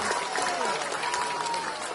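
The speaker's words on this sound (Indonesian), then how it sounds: "Tepuk tangan buat semuanya." A crowd at an outdoor campaign rally in Brebes, Central Java, claps in a brief dense burst, with crowd noise and voices mixed through the applause.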